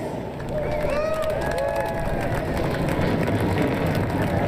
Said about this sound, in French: Les moteurs qui sont maintenant lancés.